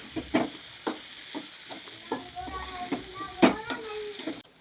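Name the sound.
beetroot poriyal being sautéed and stirred in a pan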